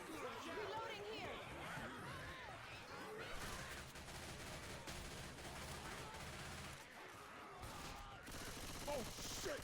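Rapid machine gun fire in a Left 4 Dead style co-op video game, bursts of gunshots rattling under excited player chatter, with overlapping voices throughout.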